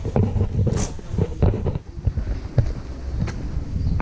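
Wind gusts buffet the microphone at Fort Jesus in Mombasa, giving a rough, low rumble that swells and dips irregularly throughout, with a few sharper thumps.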